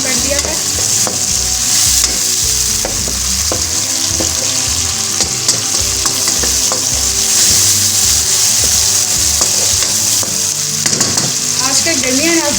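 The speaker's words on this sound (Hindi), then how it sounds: "हमने अच्छे से मिक्स कर लेना है, हिला लेंगे" Stuffed tinday (round gourds) are stirred and mixed in a pan over medium flame, with a loud, steady sizzle and repeated scraping and clinking strokes of a spoon, close by and without any voices.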